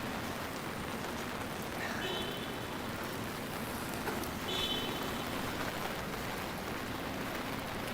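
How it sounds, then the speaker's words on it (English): Rain patters on an umbrella during a walk through Manhattan, New York City, a steady dense hiss of drops with faint traffic rumble beneath and brief chirps, continuous and even, with no talk. "sounds of the rain landing on the umbrella"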